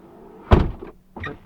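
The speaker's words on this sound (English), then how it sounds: "The door doesn't want to close." A Tesla Model X driver's door being shut: one solid, loud thunk followed a moment later by a softer second knock, close by, with no talking.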